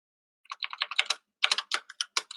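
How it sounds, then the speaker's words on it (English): A computer keyboard is typed on close to the microphone, giving two quick bursts of crisp, rapid key clicks separated by a short pause. "we have Ramiro, you're typing on mic, man"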